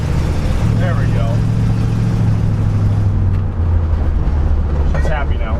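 A barn-find Mopar car engine revs hard near redline during its first burnout in decades, a loud steady roar with shifting pitch, voices talking over it throughout.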